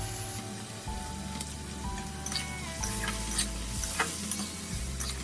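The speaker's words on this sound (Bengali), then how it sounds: "এবার দিয়ে দেব কাজু কিশমিশ আর দিয়ে দেব তেজপাতা" Cashews, raisins and bay leaf fry in oil in a pan for fried rice, a steady close sizzle with stirring clicks and scrapes, under a low background hum and without talk.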